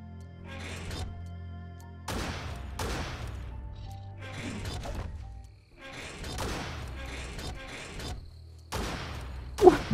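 A mount's built-in gun fires in Biomutant, sounding as a string of sharp, loud blasts in uneven bursts and clusters, some shots alone and others in quick pairs, with little else between them.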